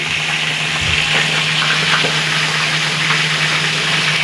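Quail meat pieces cook in a pan of oil with a constant, loud bubbling sizzle, steady throughout, with a low hum running underneath.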